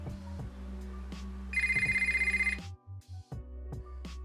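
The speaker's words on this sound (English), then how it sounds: "a call being made from the latest 5G phone to this first handheld 2G phone" An old first-generation handheld 2G brick phone rings as it receives a call from a modern 5G phone. A low hum runs underneath, then a loud electronic ring warbles for about a second, followed by short beeps.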